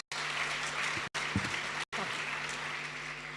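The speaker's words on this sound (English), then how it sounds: "please join me in giving this wonderful group of people a huge round of applause" Applause from an audience for a panel at an education event, a steady wash of clapping with a couple of brief dropouts and a low hum underneath.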